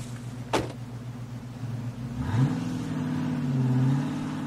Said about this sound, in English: Martha stood at the door and watched the car disappear down the drive into the woods.